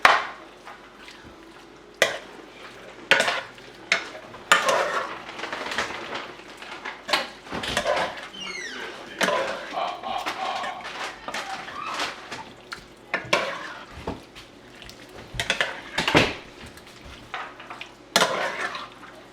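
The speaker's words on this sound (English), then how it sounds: "we're going to break that up and just kind of get that sauteing" Crawfish tails get broken up and sautéed in a pan, with irregular scraping and clanking of a utensil against cookware over a low background sizzle, the knocks coming in uneven bursts and pauses.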